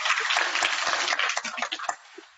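A school audience claps together in a full round of applause, dense and lively at first, then thinning into scattered individual claps as it dies away.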